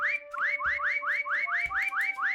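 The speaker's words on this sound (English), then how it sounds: "I hear the whistling." A repeating rising whistle sweeps upward about every quarter second over a steady tone, clear and fairly close, with no voices.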